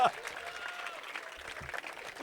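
An audience applauds at a live podcast show in Gallipoli, a steady wash of clapping that runs under a talking voice for a couple of seconds.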